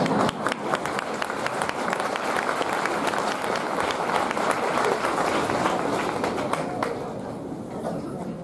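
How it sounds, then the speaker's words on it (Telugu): A large audience at a mass Bhagavad Gita recitation gathering in Vikarabad claps in a thick, continuous roar of applause that stays loud for the whole stretch, easing slightly near the end. "చప్పట్లు అనుభూతితో కొట్టాలి కానీ సానుభూతితో కొట్టకూడదు"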